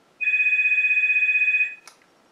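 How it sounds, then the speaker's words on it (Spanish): A telephone rings with a bright, warbling electronic tone held for about a second and a half, loud and close, followed by a brief click. "¿Cómo no iba a sonar el teléfono en un vídeo?"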